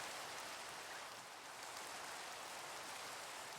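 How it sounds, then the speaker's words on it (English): Soft, steady rainfall in Minecraft, an even hiss of drops pattering on a surface with no other sounds standing out. "It is raining again."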